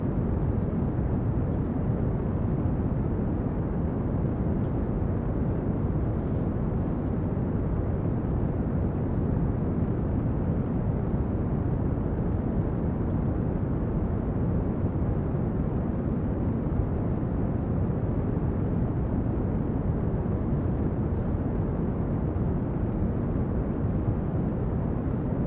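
Rocket thrusters firing continuously in the spaceflight game Kerbal Space Program, a loud, steady, broadband roar that holds unbroken without pause.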